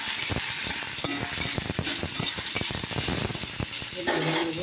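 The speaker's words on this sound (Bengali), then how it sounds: "তো দেখো বন্ধুরা, ঘি করলাটা ভাজা হয়ে গেছে" Ghee karela (bitter gourd) frying in hot oil in a kadai gives a loud, steady sizzle, broken by the sharp clatter of a spatula stirring against the pan. No one speaks.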